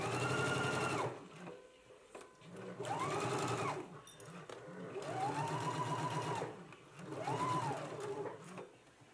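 A domestic sewing machine stitches and understitches a garment lining in four bursts of steady whirring, each ramping up and easing off, with quieter pauses between, close and fairly faint.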